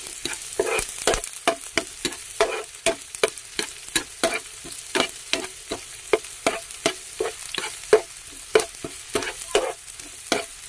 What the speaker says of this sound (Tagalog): Isahin lang natin ang ating bawang at saka sibuyas